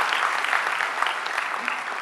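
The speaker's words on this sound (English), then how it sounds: "Believe me, I don't deserve applause." A conference audience at the Conclave of Entrepreneurship, Leadership and Technology 2016 claps in steady, dense applause that fills the whole short moment at even loudness.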